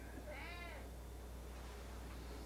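A cat in a home gives a single faint, rising meow early on, followed by quiet room noise.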